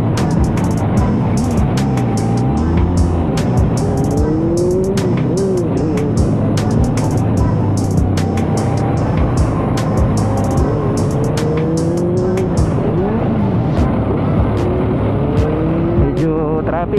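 A Benelli TRK 502X adventure motorcycle engine drones steadily up close while riding, its pitch rising and falling through gear changes, with wind rumble throughout.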